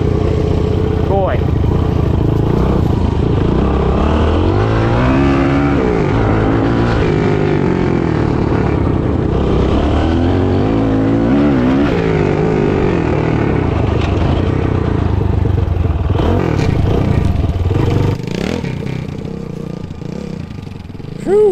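A Honda ST90 motorcycle runs loud and close with its rear wheel spinning freely, a continuous clattering engine drone that wavers in pitch, with voices talking over it.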